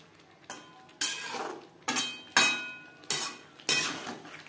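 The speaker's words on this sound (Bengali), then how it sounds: "ফুলকপির সাথে আলু বেশ ভালো করে মিক্সড করে দেবো" A spoon scrapes and clatters through boiled potatoes and cauliflower in a metal pan, six sharp scraping strokes that each fade quickly, close and fairly loud with no talking.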